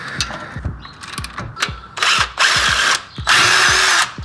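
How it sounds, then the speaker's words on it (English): Brake caliper bolts on a Hyundai Veloster N are loosened with rapid ratchet clicks in quick rhythmic runs, followed by loud whirring bursts of a power tool spinning the bolts out, close up. "I'll loosen both of the bolts out."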